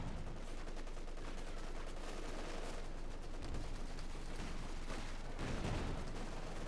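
Dense, continuous battle gunfire from Company of Heroes 2, with MG34 machine gun bursts blending into a steady roar of shots and explosions, loud and unbroken throughout.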